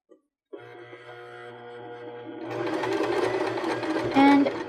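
A Baby Lock BL9 sewing machine with a zipper foot bastes pom-pom trim at a 2.5 stitch length, starting with a steady close whir that grows louder and busier partway through and carries no speech.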